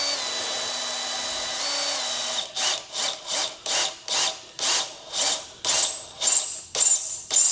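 A drill bit boring slowly through stainless steel in a farm workshop: a steady high whine, then about a dozen rhythmic pulsed bursts of grinding and squealing as the drill is pressed in short repeated pushes.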